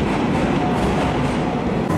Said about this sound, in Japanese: ちょうど奥の方からはこれ特急列車ですね